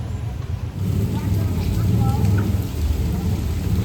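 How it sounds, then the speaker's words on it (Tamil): Rain falling steadily at an old family house in October, with a low rumble of thunder beneath it, a constant broadband wash that stays loud and close throughout. "மழை வருது"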